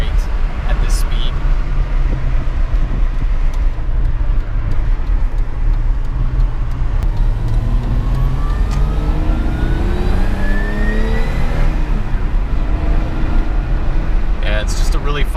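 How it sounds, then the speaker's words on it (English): A BMW E30 pulls hard uphill in fourth gear at about 50 mph, its engine droning steadily and rising in pitch as it accelerates, loud and close under a broad layer of road and wind noise, with occasional talk over it. "Fourth gear up the hill, going about 50 miles an hour."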